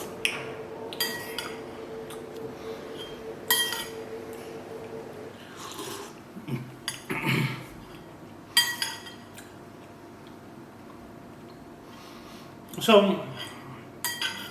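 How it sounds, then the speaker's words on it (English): Yellow mustard being stirred into a small bowl with a spoon, giving light clinks and scrapes in scattered bursts, close and quiet, with some brief talking. "I'm only going to take a tiny amount here, and I'm going to stir this mustard in"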